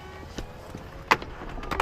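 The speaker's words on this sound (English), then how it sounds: "you've got your soft top controls, which you pull there to open or close the roof" The electric soft-top roof of a Lamborghini Huracan Evo Spyder runs with a steady, quiet motor whir inside the cabin, punctuated by a few faint mechanical clicks and clunks.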